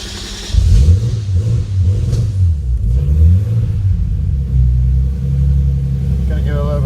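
A car's engine on first start with an AEM Infinity ECU, idle motor not set up and wrong injectors, revs loudly in several rising and falling pulls, then settles into a rough steady run with a voice briefly heard.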